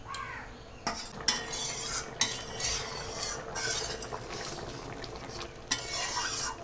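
Tilapia and taro stem curry stirred in a pan, a spoon scraping the metal in quick bursts with a few sharp clinks over a steady low sizzle.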